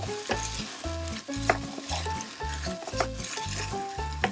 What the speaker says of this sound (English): we'll let that garlic cook in there for a minute or so